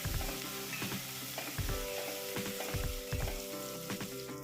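Asafoetida crackles in hot oil with onion and chillies, a loud, dense sizzle broken by repeated rhythmic scraping strokes of a ladle against the pan, heard close up with no talking.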